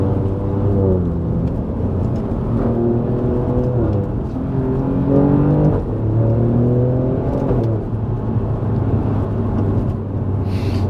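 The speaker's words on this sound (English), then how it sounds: "Those upshifts are so aggressive. The ZF gearbox is just incredibly good. The shifts are so quick." Alfa Romeo Giulia Quadrifoglio engine pulling hard on a winding road, its ZF automatic gearbox snapping through quick upshifts: a loud, close engine note climbing in pitch, dropping sharply at each shift, then rising again several times.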